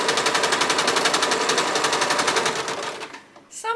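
A sewing machine stitches through thick quilt block seams on a medium background framed block, giving a loud, rapid, steady mechanical clatter with regular needle strokes that slows and stops near the end.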